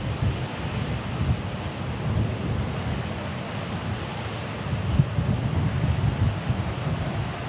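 Wind batters the microphone at Manchester Airport, a constant low rumbling buffet that swells and eases in irregular gusts, with no voices and no distinct engine standing out.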